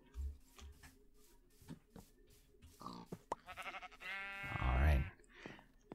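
A Minecraft sheep bleating: a short, wavering bleat near the end, heard amid quiet talk and small game sounds.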